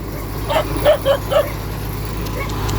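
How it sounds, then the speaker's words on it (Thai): A dog barks four times in quick succession, somewhat distant, over a steady outdoor hum from an old excavator at a shop; no speech. "โอ้หมาก็เห่าครับพี่น้อง"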